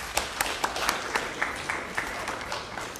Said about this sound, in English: a very, very warm round of applause for yourselves